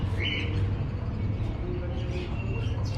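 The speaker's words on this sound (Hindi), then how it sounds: "चिड़ियों की आवाजें।" Caged birds chirp and tweet in short bursts at a rare bird market in Quetta, Pakistan, set against a constant low rumble of market bustle and traffic.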